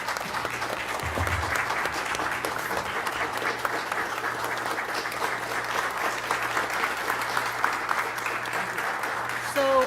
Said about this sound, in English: how about a nice round of applause for our colleague who is an educator